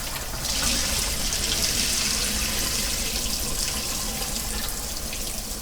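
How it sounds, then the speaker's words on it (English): Tap water runs steadily into a kitchen sink while pasta is drained, a loud continuous splashing rush that stays even from start to finish with no talking. "I like to run water when I'm draining my pasta."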